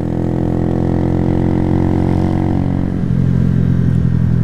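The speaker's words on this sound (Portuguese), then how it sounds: "E tem como trocar de marcha sem embreagem também" A motorcycle engine drones close and steady, then its tone drops and shifts partway through as the gear changes without the clutch.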